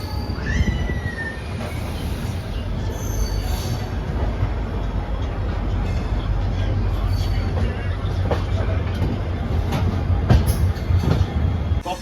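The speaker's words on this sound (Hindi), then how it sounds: "अपनी ट्रेन निकल चुकी है जोधपुर जंक्शन से।" The Jodhpur–Delhi Mandore Express pulls out of Jodhpur Junction with a steady low rumble of rolling wheels and rail clatter, plus a brief wheel squeal near the start and occasional knocks from the cars.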